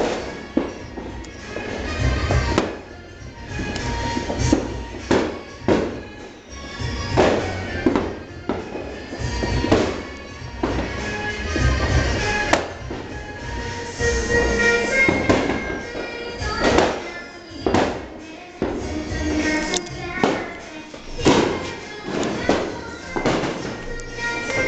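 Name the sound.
New Year's Eve fireworks and firecrackers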